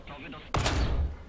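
Tank cannon fire in War Thunder on a Tunisian map: one sharp, loud boom strikes about halfway through and rolls off into a rumbling tail, with quieter battle noise before it.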